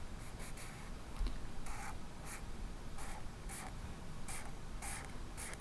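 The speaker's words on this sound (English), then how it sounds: "I'm just kind of lifting up my marker and making small marks carefully inside the branches" A marker colours in a drawing on paper with a series of short, soft scratchy strokes, some quicker and some spaced apart, faint and close over a steady background hiss.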